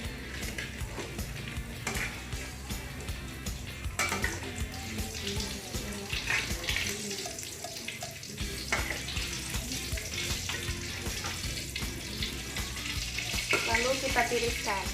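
Tempe fries in hot oil with a dense, continuous sizzle and crackle, plus occasional stirring and clinks over the steady frying, with no talking.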